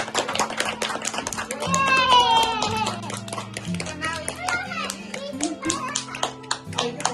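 Family members clap hands in a quick, uneven patter to welcome someone home from the hospital, with children's and adults' voices chattering and calling out over the claps.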